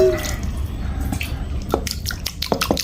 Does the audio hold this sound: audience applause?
no